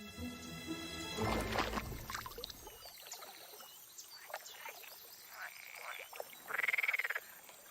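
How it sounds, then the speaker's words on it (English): Frogs croak in a wetland, a chorus of rattling, pulsing calls near and far, with one louder trilling burst toward the end and soft water sounds underneath. "Only male frogs have vocal sacs."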